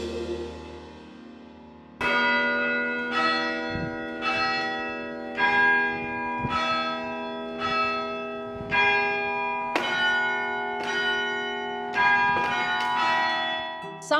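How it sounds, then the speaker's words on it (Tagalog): Church bells in a Philippine provincial church ring out in a series of loud, resonant strikes, each tone swelling and lingering over the last, about a dozen peals with no voices. "ang mga kampana ng simbahan hindi lang tumatawag sa misa"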